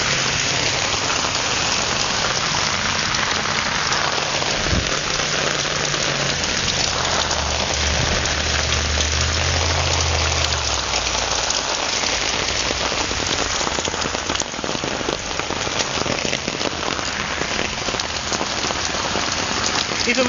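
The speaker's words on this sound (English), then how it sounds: "It just started raining again. And I think you can hear it. It's raining pretty hard." Heavy rain from a storm pours down steadily and runs off a roof, a loud continuous hiss of dense drops and splashing runoff with a low rumble passing midway.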